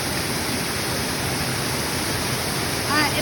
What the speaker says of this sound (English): There's waterfall.